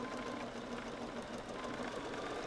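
A sewing machine stitches quilt fabric in a steady, continuous whir with a fine rapid rattle of the needle, running evenly at a moderate level throughout.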